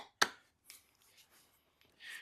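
Wood carving: a knife chopping a cut into wood gives one sharp, close knock, followed by a few faint scraping and tapping sounds in a quiet room.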